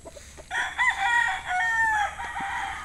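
A bull stag rooster crows once, clear and close, in a single drawn-out call over a faint outdoor background.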